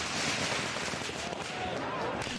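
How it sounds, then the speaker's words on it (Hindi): Firecrackers burst amid a Holi street procession, a rough run of cracks and pops layered over crowd noise and chatter, continuous and fairly close. "जमकर पटाखे फूट रहे हैं"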